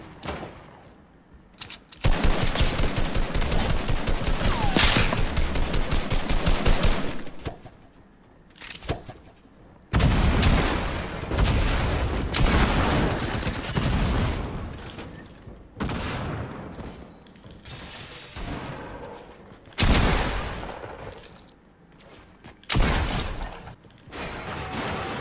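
Grenade launcher fire in Fortnite, heavy explosive bursts and blasts arriving in loud clusters separated by quieter gaps, with rattling gunfire mixed in.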